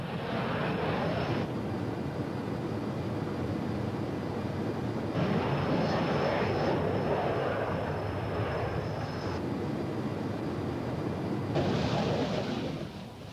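Phantom jet refuelling in flight from an airborne VC-10 tanker, a steady loud roar of jet engines throughout, swelling slightly at intervals with no voices.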